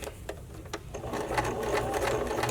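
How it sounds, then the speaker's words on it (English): A sewing machine stitches elastic onto a handmade bra in a steady, close whir. It begins with a few separate stitches, then runs continuously and slightly louder to the end. "and stitch back to where I've started"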